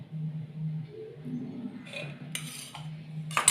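A spoon stirs ghee into rava laddu mixture of semolina, sugar powder, cashews and edible camphor in a metal vessel, with soft scraping and a few sharp clinks near the end.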